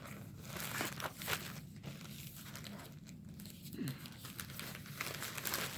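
A plastic delivery bag crinkles and rustles continuously as it is handled up close, a soft, fairly quiet crumpling texture with small crackles throughout.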